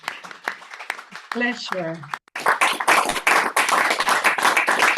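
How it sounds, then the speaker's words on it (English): A seated audience applauds a panel at a policy talk on critical raw materials, starting with scattered claps, then a short spoken word, then building into fuller, fairly close applause that continues to the end. "Okay, now we can applaud our wonderful panel."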